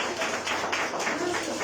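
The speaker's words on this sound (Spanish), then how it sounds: "Den un aplauso al Señor" A church congregation applauds at a Sunday service, producing a dense, even wash of clapping with no individual claps standing out, moderately loud and sustained.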